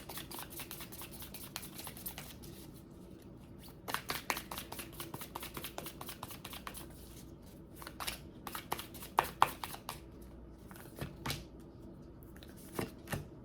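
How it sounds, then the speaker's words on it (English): Animal Spirit Oracle cards being shuffled and pulled from the deck, with soft continuous riffling broken by several sharp close slaps and flicks, heard alone without talk. "I'm going to go ahead and pull 2 of these Animal Spirit Oracle cards."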